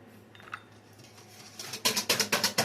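A whisk beats eggs, vanilla and sugar for chocolate fudge brownie batter, starting faint, then building into a loud, rapid series of rhythmic metallic clinks against the bowl near the end.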